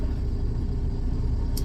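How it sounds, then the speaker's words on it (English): A truck rumbles close behind on a road, a steady low engine drone that holds at an even level through the short stretch. "I got a truck coming behind me, and there's no way you can get around me"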